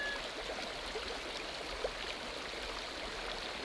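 A creek along the Pacific Crest Trail flows with a steady, even rush of water that stays fairly close and constant throughout, with no voices over it.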